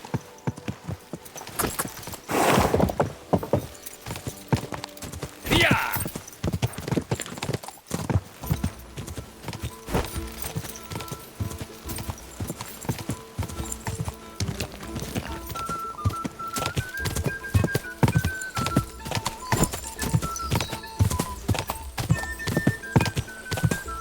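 Horses gallop in a race in Kingdom Come: Deliverance II, with a steady, loud clip-clop of hooves running throughout, a brief whinny near the start, and game music rising behind the hoofbeats.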